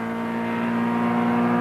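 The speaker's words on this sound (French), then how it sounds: "Au tour de Sébastien Loeb avec la Citroën Xara qui va plafonner à 204 km/h." A Citroën Xsara rally car engine held at high revs at about 204 km/h, a loud steady drone with a faint rising pitch, heard briefly and up close during the 2003 Rally of Catalonia.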